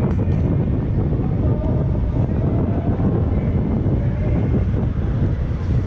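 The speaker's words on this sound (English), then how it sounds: "Sorry about the wind." Wind buffets a microphone outdoors on a street in Akihabara, a steady low rumbling roar that fills the whole stretch with no break and no speech.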